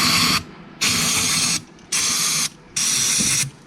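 Aerosol sprayed in repeated bursts into the open carburetor of a 1970 Ford Escort Mk1, four loud hissing blasts with short pauses between them, close by and with no talking.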